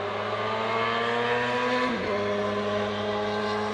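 A loud car engine revs on a road trip through the Pacific Northwest, a sustained droning roar that dips and swells once in pitch, heard close and alone without speech.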